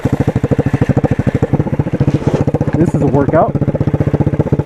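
A 125cc motorcycle engine runs close by with a steady, throbbing chug, its revs lifting briefly partway through, while someone talks over it.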